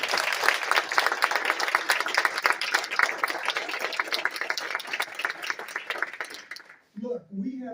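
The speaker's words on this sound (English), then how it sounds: "I think we owe them a round of applause for the leadership" Warm applause at an event about a Kirkland mental health crisis care facility, dense clapping for about seven seconds that thins toward the end before a voice starts speaking.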